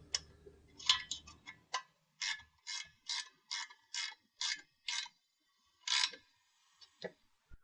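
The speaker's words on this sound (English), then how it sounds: "Now I'm ready to just snug up my set screws" Set screws being snugged up on the crossbar of an aluminum truck bed rack, giving a run of about a dozen quiet, evenly spaced ratcheting clicks, close and alone with no talk.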